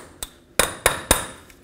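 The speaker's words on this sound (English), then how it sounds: "with a punch and a hammer, make sure that your axle breaks free" On a 2007–14 Chevy Silverado, a hammer strikes a punch to free the front axle from the wheel hub, with one light tap and then three sharp metallic blows in quick succession, close and loud.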